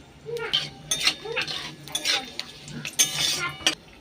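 Whole spices and chili splutter in hot oil for tempering, with a spoon clinking and scraping against the pan in irregular strokes over a light sizzle, close by.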